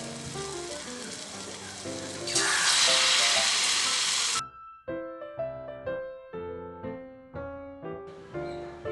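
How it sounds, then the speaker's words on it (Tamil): Potato bondas deep-fry in hot oil, a loud burst of sizzling as batter drops in, then settling into quieter bubbling crackle with repeated soft splashes of further pieces added. "இப்போ எல்லாத்தையுமே அதே மாதிரியே போட்டு பொரிச்சு எடுத்துப்போம்"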